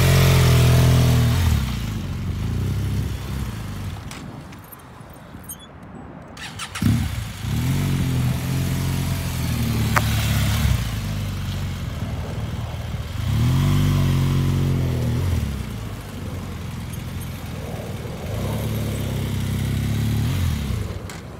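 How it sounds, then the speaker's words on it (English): A motorcycle repeatedly comes to a dead stop, then takes off and swings through a quick U-turn, its engine rising and falling in several revving pulses close by. "stopping, coming to a dead stop, taking off, doing a quick U-turn, stopping the bike"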